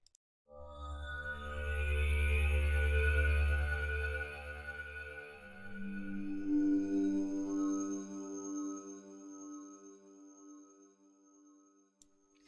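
Evolving synth pad preset from the Exogenesis pack for Vital swells in with a deep low drone and bright shimmering overtones, then shifts to a higher airy layer and slowly fades out, alone and without talk.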